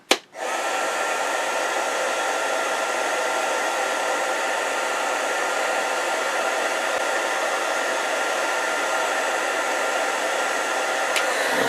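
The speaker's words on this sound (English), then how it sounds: "Let me grab my heat gun. We'll heat shrink this first one on." Heat gun blows hot air to shrink tubing during a sewing machine motor rewire, switching on with a quick click and then holding a loud, steady whooshing roar close up with no voices.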